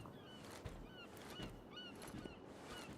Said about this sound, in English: I've got a bird here that's stuck in a wall and flying by me